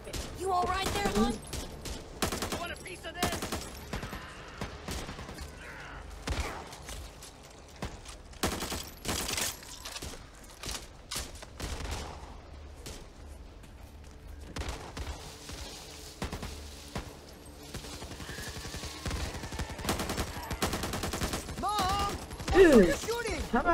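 Scattered gunfire from teammates in the video game Back 4 Blood, irregular bursts and single shots of varying loudness, mixed with voices talking throughout.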